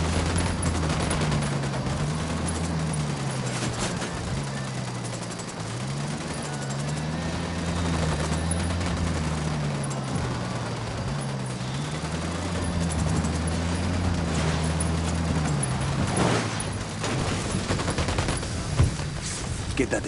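Bursts of automatic gunfire in Ghost Recon Wildlands crackle over a rumbling vehicle engine whose pitch rises and falls, with someone speaking intermittently through the sustained volleys.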